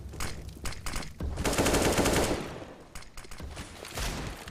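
Rifle gunfire in a Counter-Strike match, a loud sustained burst of rapid shots with shorter bursts before and after, dense and close.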